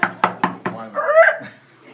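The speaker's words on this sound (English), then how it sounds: "I knocked on the door." Four quick, evenly spaced knocks on a door, close and sharp, followed by a brief voiced sound.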